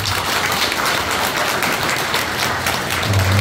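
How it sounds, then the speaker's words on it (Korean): Applause from an audience at a Korean civic association members' assembly, a steady, dense wash of clapping that holds at an even level throughout with a low hum underneath. "좀 위로 차원에서 힘찬 박수"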